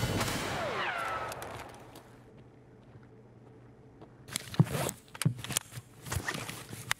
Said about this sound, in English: I heard gunshots that weren't us, so I think there's PMCs out there as well